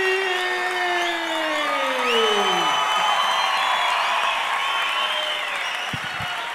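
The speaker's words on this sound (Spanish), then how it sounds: "Fuertes aplausos para Sevilla, mi amigo, el genial" An audience at a live comedy show applauds and cheers, with steady clapping, whoops and a rising whistle-like shout, loud and sustained throughout, and a couple of knocks near the end.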